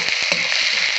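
Onions sprinkled with sugar sizzle steadily in a hot pan, a continuous close frying hiss with a few faint stirring knocks, no voices.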